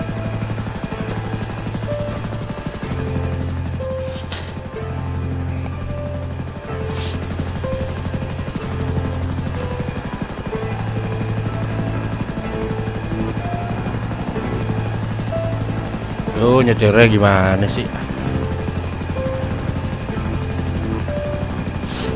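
A helicopter diving in the video game GTA 5 drones with a constant rotor thrum and pulsing low engine tones, loud and unbroken, while someone briefly speaks over it near the end.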